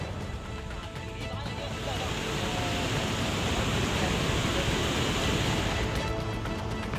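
Floodwater rushing down the streets of Dharamshala after a cloudburst, a dense, roaring wash of torrential flow that is loud and continuous, with a voice speaking over it.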